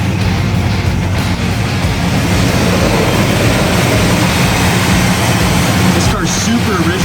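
The original engine of a 1974 Plymouth Duster runs in a loud, steady idle with a low rumbling texture, continuous and close throughout.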